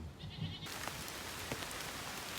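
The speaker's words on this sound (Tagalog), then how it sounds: "Lumukas po uli ang buhos ng ulan at may kasamang hangin ngayon." Steady heavy rain with wind hisses continuously at outdoor pig pens, with a brief bleating animal call near the start.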